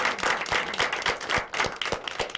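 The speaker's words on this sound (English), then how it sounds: "We have a round of applause for her." Studio audience clapping for a late-night talk show co-host, a small group producing a moderate, fairly rhythmic burst of applause at middling distance with no talk over it.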